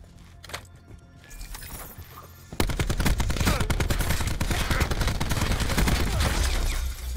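Several enemy players in Black Ops 4 open fire together in a sudden, loud burst of sustained automatic gunfire that follows a few quieter shots and game sounds.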